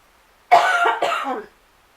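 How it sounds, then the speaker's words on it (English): A single harsh cough from someone with a scratchy throat and tight chest, close and loud, breaking into two raspy bursts before silence. "I'm sorry to cough in your ear like that."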